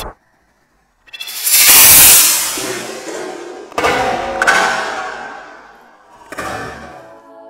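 A small demonstration rocket blasts off, a sudden loud roaring whoosh that rises and fades over about two seconds, followed by two more thumping bursts and a fainter final rush.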